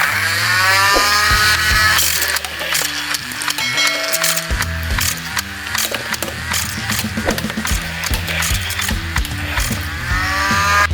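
A toy blower gun's mechanism whirs and ratchets in a loud, buzzing, stepped rattle that pulses and changes pitch continuously, close up.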